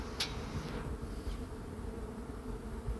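A large, dispersed swarm of honeybees drones in a steady, dense buzz close by, with a brief sharper hiss near the start and no talking.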